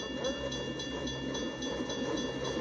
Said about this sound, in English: we're going to watch the train go past the railroad crossing